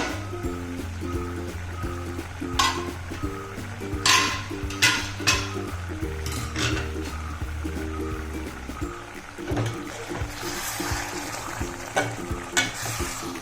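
Homemade egg curry in masala gravy simmering in a pan and stirred now and then: a low bubbling sizzle with intermittent spoon scrapes and knocks over a steady background hum.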